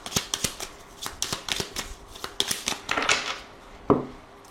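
Tarot cards shuffled and cut by hand, a quick run of close, crisp riffling flutters and slaps, ending in a single louder tap as the deck is set down.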